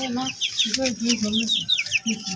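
Eighteen-month-old laying hens cluck and squawk in quick, close bursts while being herded into a cage, with a person's voice faintly underneath.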